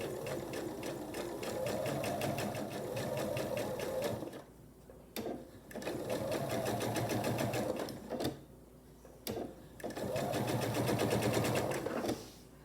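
Sewing machine chain piecing quilt patches for a Jacob's Ladder block, a steady fast humming stitch in three long runs broken by brief pauses and sharp clicks as pieces are fed through.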